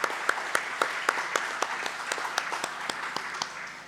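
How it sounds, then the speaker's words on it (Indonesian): A church congregation at a praise and worship night claps together in a quick, even rhythm, sharp unified beats riding over a bed of scattered applause. "mari kita berikan tepuk tangan yang meriah, yang paling meriah bagi Tuhan."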